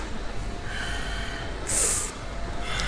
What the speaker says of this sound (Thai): เสียงหายใจของไมล์เริ่มแบบแปลก